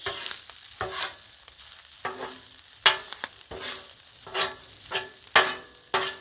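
Chicken fried rice and eggs being stirred and spread across a hot griddle: repeated scraping spatula strokes in an uneven rhythm over a steady sizzle, close and clear with no talking.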